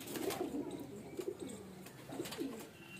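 Fancy male pigeons, including a small one, give soft, throaty coos in a few short repeated bursts, fairly faint against a quiet background.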